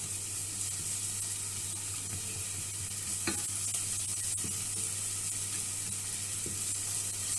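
Shallots frying in a pan for salmon with sorrel sauce: a quiet, steady sizzle with a continuous crackle, broken by a few light stirring scrapes and taps, heard alone without talk.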